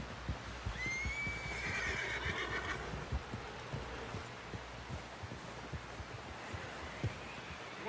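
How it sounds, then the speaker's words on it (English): A horse whinnies loudly early on in the video game Red Dead Redemption 2, followed by a steady series of hoof clops and thuds under a low snowy wind ambience. "Someone help John down off this horse."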